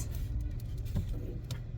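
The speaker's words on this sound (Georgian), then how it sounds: "მანქანა მოდის." A car's engine rumbles steadily close by, low and continuous, with a few faint clicks and light taps over it.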